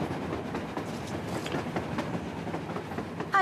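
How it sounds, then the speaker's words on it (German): Train rolling past in the video game Metro Exodus, a steady rumbling wagon noise with faint rhythmic clatter throughout, moderately distant and fairly quiet, with a brief brighter squeal near the end. "Ein Zug? Ein verdammter Zug an der Oberfläche?"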